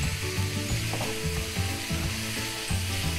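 Meat browning in a pan for spaghetti squash lasagna gives a steady, loud sizzle with dense frying crackle that runs without a break, plus occasional scraping stirs. Low background music or hum sits underneath.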